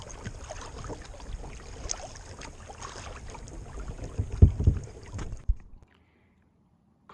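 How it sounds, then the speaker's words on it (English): A canoe paddled on the Ottawa River, with soft, uneven paddle strokes and water swishing close by under light wind noise, then a few louder splashes before everything drops to near silence. "now I can keep paddling"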